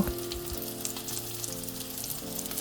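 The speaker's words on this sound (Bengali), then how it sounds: "মাছটা ব্ল্যাক পেপার আর সল্ট দিয়ে ম্যারিনেট করে বাটারে হালকা ভেজে নেব" Salmon marinated with black pepper and salt fries in butter, giving a steady, close sizzle that runs unbroken for the whole stretch over a sustained tonal hum.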